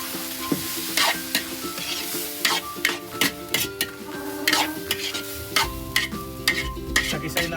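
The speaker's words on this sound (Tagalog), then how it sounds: "Isagisayin natin mabuti yung munggo mga kanayon para malasang-lasa at malinamnam" Mung beans sizzle in a hot pan as a spoon scrapes and stirs them, with sharp clinks against the metal in an irregular rhythm over a continuous frying hiss, close and with no talk.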